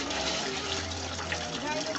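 Water flows steadily in a home fish aquarium fitted with an air pump, a continuous close gushing and bubbling wash that lasts throughout with no clear breaks.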